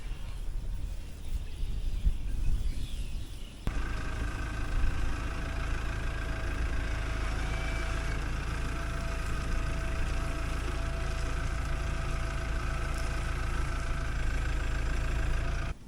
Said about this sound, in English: Comes Dad with the tractor.